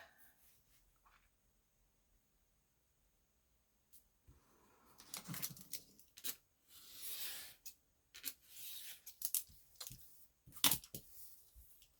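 The rough edge of an old book page is cut off for a junk journal. After a quiet start come close, dry rubbing and snipping paper sounds in short irregular bursts.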